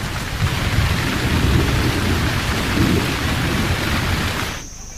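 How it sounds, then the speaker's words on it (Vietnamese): Summer thunderstorm over distant grasslands, a loud roaring downpour with deep rumbling thunder throughout, cutting off abruptly near the end. "những cơn mưa mùa hè cuối cùng đã xuất hiện"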